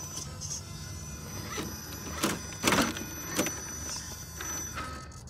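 An electric winch on a rock crawler reels in its hook, giving short, fairly quiet bursts of motor whirring that start and stop unevenly against a steady background hum.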